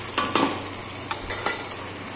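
Chicken kosha being stirred in a pan: scraping spoon strokes and light clinks over a soft continuous sizzle, close and without talk.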